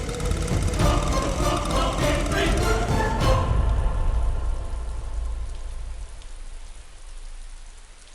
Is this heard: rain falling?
yes